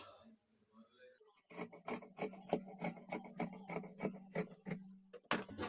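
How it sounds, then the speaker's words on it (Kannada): Scissors cut a two-inch strip of fabric for a blouse lining, with a quick run of close, rhythmic crunching snips following a soft spoken voice at the start. "ಇಲ್ಲಿ ನಾನು ಎರಡು ಇಂಚು ಅಗಲ ಇಟ್ಕೊಂಡು ಇದನ್ನು ಕಟ್ ಮಾಡ್ಕೊಳ್ತೀನಿ"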